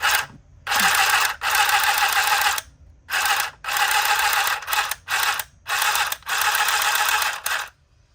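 A handheld sewing machine stitching fabric, bursts of rapid mechanical whirring and clicking separated by short pauses, loud and close, no voices.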